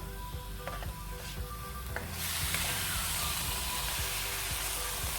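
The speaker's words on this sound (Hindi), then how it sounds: "इसको हम थोड़ा सा फ्राई कर लेंगे। चिकन का कलर चेंज होने तक इसको हम पकाएंगे।" Chicken fries in a pan with a soft, quiet sizzle and a few light clicks and scrapes. About two seconds in, the hiss swells into a fuller, steady frying sound and continues alone without any speech.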